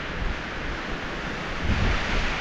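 Steady, loud wind buffeting a microphone, a broad roaring rush that swells near the end, with no voices.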